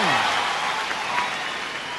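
A church congregation cheers and shouts in a sustained, loud wash of crowd noise that fades slightly over two seconds, with a voice briefly audible at the start.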